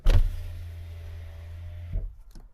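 The rear power window of a Mazda CX-3 hums down for about two seconds, a steady electric motor whine that ends with a soft thunk as it stops partway.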